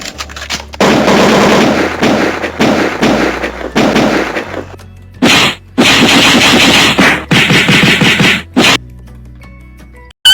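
A V8 sound card console plays gunshot sound effects: loud close bursts of rapid machine-gun fire in several separate runs, with short gaps between them and no talking.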